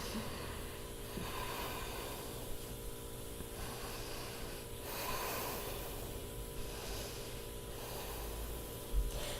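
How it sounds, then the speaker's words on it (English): Slow, deep yoga breaths cycle through the clip as soft, airy hissing exhales and inhales, close and steady with a gentle rhythm, no talking. "Deep full breath in,long breath out"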